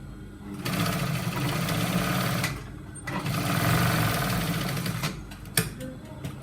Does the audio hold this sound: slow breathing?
no